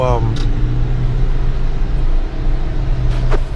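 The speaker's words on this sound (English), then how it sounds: "First, it's a quick car. We're accelerating up." A car on the freeway with adaptive cruise control, accelerating: a steady low engine and road hum with tire rumble inside the cabin, beneath someone talking.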